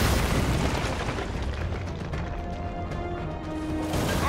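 Missile explosions in Gears of War 4 on hardcore mode make a dense, continuous roaring blast of boom and debris, loud and close throughout, with no talk.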